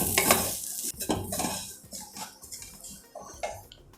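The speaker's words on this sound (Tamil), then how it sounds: "நல்லா ப்ரௌனாக ஆற வரைக்கும் வறுத்துருங்கோ." Grated coconut being roasted in a pan and stirred, with steady soft sizzling under repeated scraping and clinking of a utensil against the metal pan, close up with no talking.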